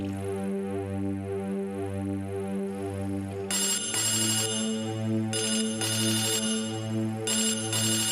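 A mobile phone ringtone plays a repeating electronic melody with steady rhythmic pulses, loud and close, continuing for several seconds with no other sound.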